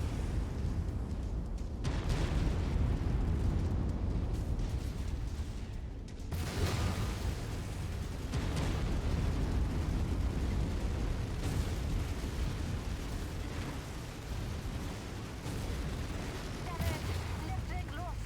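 Missile explosions in a mech combat video game, heavy booming blasts and rumbling impacts recurring over a dense bed of battle noise.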